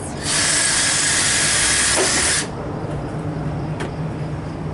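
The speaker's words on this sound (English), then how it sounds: "I'm going to re-drill it while I hold this in place" A power drill re-drills an off-position hole in a homemade compost tumbler, running as one loud steady whine for about two seconds before stopping abruptly, leaving faint background noise and a brief click afterward.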